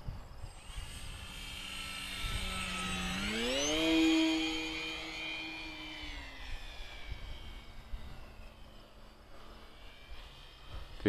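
An E-Flite Pitts S-1S 850mm RC plane flies past at full speed, its electric motor whine rising in pitch as it approaches, peaking loudly, then dropping into a Doppler sweep and fading to a steady distant drone.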